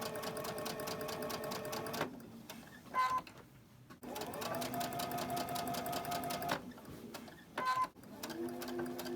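A sewing machine stitches cotton fabric in two long steady runs of rapid, even needle chatter, each broken by a short pause and a brief higher whir, close and loud with no talk.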